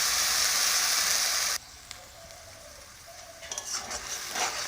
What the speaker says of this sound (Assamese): পেষ্ট বনাই লোৱা মছলাখিনি এতিয়া ভাজি লৈছোঁ।